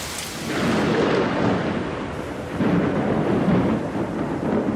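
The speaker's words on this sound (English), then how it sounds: "he heard thunder that sounded like the angriest, most frightening drum in the world" A thunderstorm with deep, rolling thunder rumbling loudly and continuously over steady rain, swelling twice in heavy waves with no voices.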